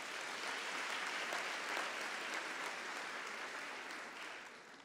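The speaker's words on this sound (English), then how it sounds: "Let's give them a round of applause." A large crowd at a university autumn graduation ceremony applauds in a dense, even wash of clapping that holds steady for several seconds before fading slightly, heard at a distance and with no talk over it.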